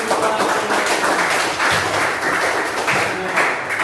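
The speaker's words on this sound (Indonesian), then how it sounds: "Tepuk tangan." A classroom of students claps together during an economics lesson, a dense, steady patter of hands lasting a few seconds with a faint voice underneath.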